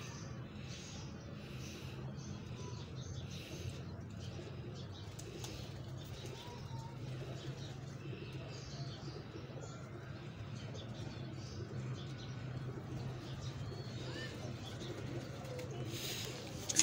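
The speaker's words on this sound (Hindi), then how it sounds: "देखें जी, एक और कबूतर आ गया है जाल पे" Pigeons settled on a net on a rooftop coo softly off and on, faint and fairly distant, over a steady low background hum, with no one speaking.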